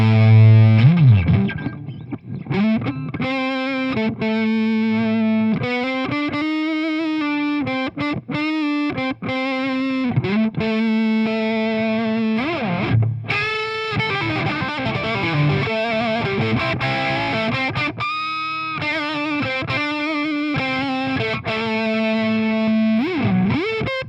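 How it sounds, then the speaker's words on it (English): Distorted electric guitar through a P90 pickup, played alone as a continuous run of sustained notes and bends, loud and thick with heavy drive and a slight chorus shimmer, with no talking. "Let's see what a P90 sounds like as well."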